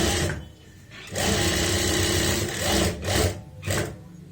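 A sewing machine runs steadily, stitching the outer side of a simple border strip onto fabric, with a long continuous run broken by a few brief pauses and restarts close by.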